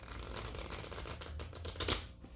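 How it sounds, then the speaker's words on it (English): A large oracle deck with thin cardstock is shuffled sideways by hand, giving a fast, papery riffling and flicking that builds to a sharper snap near the end, close and fairly quiet. "Shall we shuffle?"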